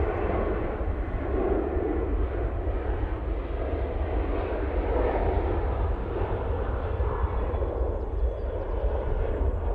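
An airplane at Manchester Airport roars steadily and loudly for the whole stretch, a dense, continuous engine rumble with no distinct pass-by and no talk.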